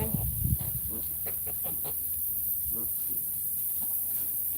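Backyard chickens clucking close by, a few sharp clucks and short calls early on, then softer scattered clucking over a steady background hum.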